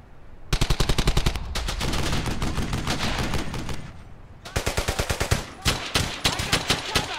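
Dense bursts of automatic gunfire from World War II weapons in the video game Brothers in Arms: Hell's Highway. Rapid, loud, rhythmic volleys roll in two long stretches separated by a brief lull, then give way to scattered shorter bursts.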